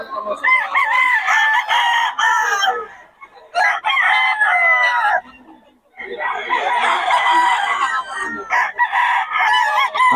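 A lemon sweater gamefowl rooster crows loudly and close several times in long, harsh bursts separated by short gaps, with clucking between calls.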